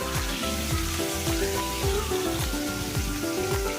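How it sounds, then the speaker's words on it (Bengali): Pomfret fish frying in hot mustard oil in a wok, a steady crackling sizzle with dense spattering, joined by a soft recurring background tone, continuous and close throughout without speech. "সরষের তেল গরম হলে একে একে মাছগুলো ভাজতে দিয়ে দিচ্ছি"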